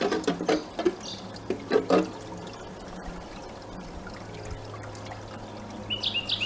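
Water washes fine material over a gold sluice, pouring and trickling steadily, with a few louder splashing bursts early on before settling into a quieter continuous flow, close by and with no voices.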